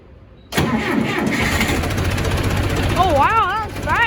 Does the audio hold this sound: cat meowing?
no